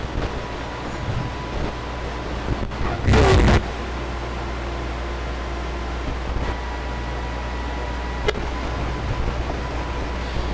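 Noisy radio swept by an envelope follower keyed from a kick drum on a KOMA Elektronik Field Kit, a steady hiss and hum with faint tuning flickers and one loud burst of static near the start.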